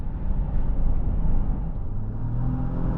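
A 2019 Acura MDX Sport Hybrid with a dual-clutch gearbox drives along, heard as a steady low engine and road rumble with a faint rising and falling whir throughout.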